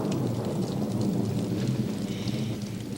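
Steady rain with low rolling thunder from a thunderstorm in a TV drama scene, a continuous rumbling wash at moderate level throughout, with no voices.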